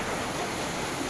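Panwal waterfall near Ratnagiri roaring in a dense, unbroken wash of falling water, loud and close with no pauses.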